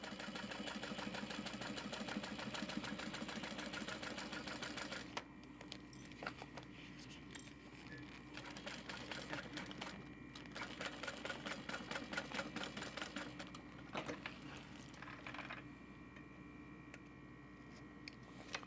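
An industrial sewing machine runs in bursts while stitching a clear vinyl tote bag, a rapid mechanical chatter that starts and stops several times, with quiet pauses between runs.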